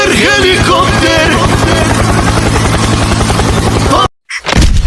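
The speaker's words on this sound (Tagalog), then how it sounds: "Helicopter." A helicopter passes overhead with a loud, rapid thumping of rotor blades for about four seconds. Then it cuts off sharply and a short burst of noise follows.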